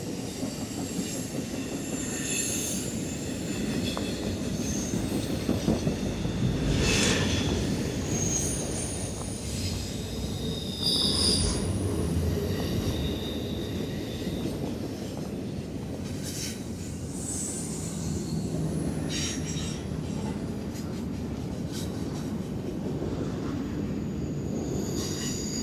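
I-025, an intermodal freight train on the Henderson Subdivision near Nortonville, Kentucky, rolls past loudly, with a steady rumble of cars and repeated high metallic wheel squeals and clicks over the track.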